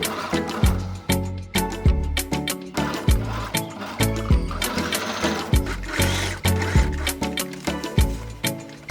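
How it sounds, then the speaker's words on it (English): A sewing machine stitches leftover fabric pieces from thrifted clothes onto a bag in a layered mountain pattern, running in close, steady rhythmic bursts of needle chatter with short pauses between runs. "Pin the pieces down and sew them on."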